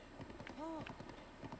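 Brief run of galloping hoofbeats from a horse in The Legend of Zelda: Breath of the Wild, quick close thuds with a short vocal tone briefly rising over them.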